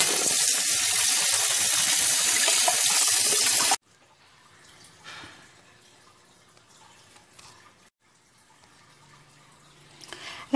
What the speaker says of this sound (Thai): ล้างออกให้เด็ด